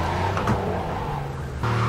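A car in a video game drives with a steady engine hum and tire noise throughout, loud and close, with a brief change near the end and no talk.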